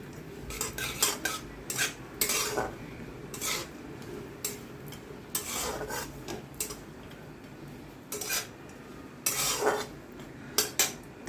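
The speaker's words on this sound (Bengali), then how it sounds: "সিমুইটা দিয়েও আমি কিছুক্ষণ ভেজে নেব।" Vermicelli (semai) and dry fruits frying in a pan, stirred with a spatula that gives repeated scraping clinks and short rattling bursts against the metal over a low background, with no talking.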